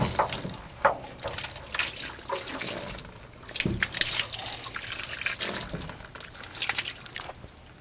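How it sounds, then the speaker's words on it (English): Water draining out of a Geyser heat pump water heater, a continuous splashing, gurgling flow with uneven surges and drips, close and fairly loud, with no voices. "That's going to be a lot of water coming out"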